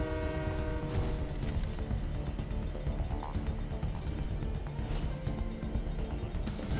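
A train in the video game Fortnite rumbles along with a loud tonal horn blaring over the continuous clatter and roar, sustained throughout.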